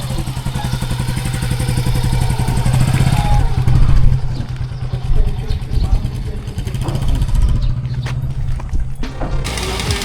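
Yamaha NMAX V3 scooter engine running on an outing to a nature spring in Quezon, a close, loud, rough motor drone with clattering, overlapped by people talking and shouting.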